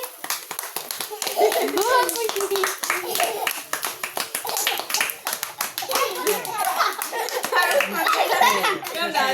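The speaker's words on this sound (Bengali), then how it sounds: "হাততালি দাও সবাই।" A group at a child's birthday party clapping together in a quick, uneven rhythm, with children's and adults' voices talking and laughing over the clapping.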